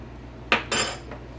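A spoon scrapes and clinks against a pan while cornstarch is stirred into a homemade Thai chicken sauce, two short close metallic strokes in quiet surroundings.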